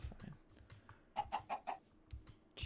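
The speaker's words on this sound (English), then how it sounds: "Chicken." A chicken in the Minecraft video game (Create mod) gives a quick run of four or five soft clucks, faint and close together, among light background clicks and thuds.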